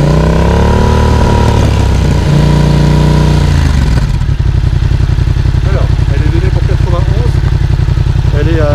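A motorcycle fitted with an Arrow exhaust line and baffle roars loudly during a decibel test, revving hard for several seconds before dropping to a fast, pulsing idle.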